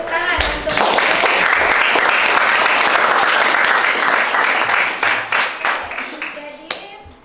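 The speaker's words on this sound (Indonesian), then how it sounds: "Oke, tepuk tangan untuk" A classroom of students applauds a classmate, loud dense clapping that swells quickly, holds strongly, then thins into scattered claps and fades, with a few voices mixed in.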